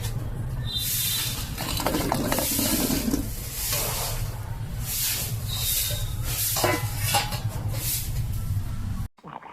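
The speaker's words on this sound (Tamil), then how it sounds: "இப்போ இந்த குலோப் ஜாமுனை நம்ம வந்து சீனி பாகில் போடணும்" Gulab jamun balls dropped into sugar syrup give soft wet stirring and sizzling sounds over steady kitchen background noise, fairly close, with no talking.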